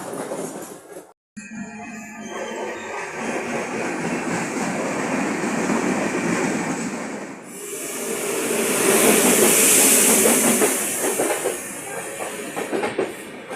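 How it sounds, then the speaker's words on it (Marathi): The 16345 Netravati Express rolls into a station with a rising rumble and rhythmic clatter, followed by a loud hiss of air brakes as it slows. "बघूया आता ट्रेन आलं"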